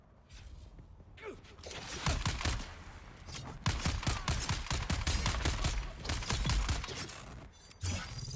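Gunfire in the desert survival game Dune: Awakening, a long run of sharp, rapid shots in irregular bursts with short pauses, fairly close and dominant, with faint game sounds between.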